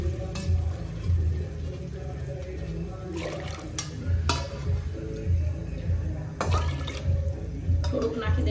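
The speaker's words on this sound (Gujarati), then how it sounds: "તો આપણે 3 વાટકા પાણી નાખશું." Water is poured into a cooking pot for seven-grain khichdo, a steady splashing fill broken by sharp clinks of a metal bowl against the pot, with faint talk in the background.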